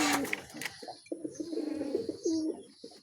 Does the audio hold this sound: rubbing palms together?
no